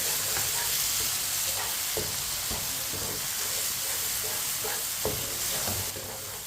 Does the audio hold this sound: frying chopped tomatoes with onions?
yes